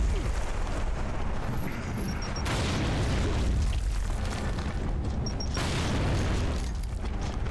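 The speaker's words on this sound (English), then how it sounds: "Grenade." A grenade explodes in the video game Gears of War 3, with heavy booming blasts and rumbling debris filling the clip, loud and close, followed by lingering roar.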